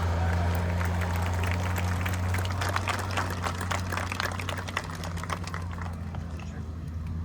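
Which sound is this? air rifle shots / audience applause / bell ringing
audience applause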